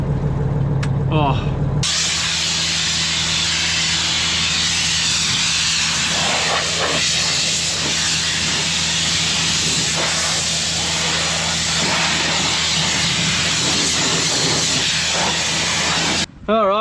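A harvester engine on a Western Australian grain harvest starts on its electric starter motor, then settles into a loud, continuous, hissing roar that runs throughout with a steady hum beneath it, and a voice speaks briefly before it fires.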